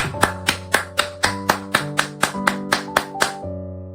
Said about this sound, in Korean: 우리 하나님께 감사의 박수 올립시다